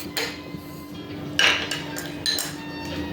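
Ceramic dishes clink and knock as they are set down on a surface, a few sharp contacts at moderate loudness with quieter handling between, no talk.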